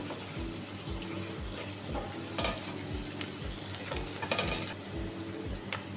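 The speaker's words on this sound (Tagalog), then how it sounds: "saute-saute lang ang ating garlic, onion," Garlic, onion and ginger sauté in a pan with a soft sizzle beneath repeated scraping and clicking strokes of a utensil, quiet and close.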